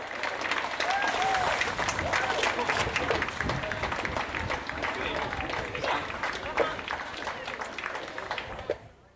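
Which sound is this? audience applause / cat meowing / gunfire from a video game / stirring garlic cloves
audience applause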